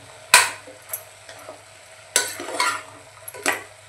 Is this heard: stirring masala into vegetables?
yes